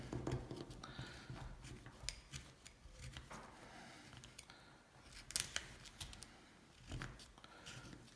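A knife carves a large piece of wood for a bolo tie, making short, crisp scraping and snicking cuts. They come in irregular bursts close to the listener against a quiet background, with no voices.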